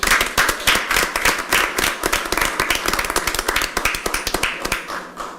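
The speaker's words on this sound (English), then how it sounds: "Let's give them a round of applause." An audience at a city council meeting claps in a dense, continuous burst of applause, many hands close and loud, with sharp individual claps standing out and no speech over it.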